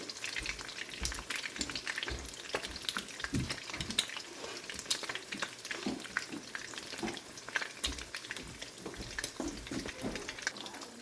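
Food sizzling and frying in a pan after being flipped, a steady crackling hiss with dense spitting pops throughout, close and continuous, with occasional light stirring or scraping and no talking.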